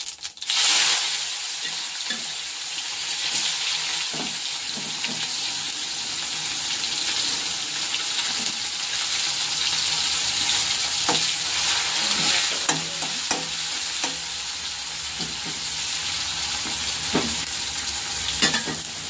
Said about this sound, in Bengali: তো সাদা জিরে দিয়ে দিচ্ছি, দিয়ে এখন দিয়ে দেবো একটু পেঁয়াজ কুচি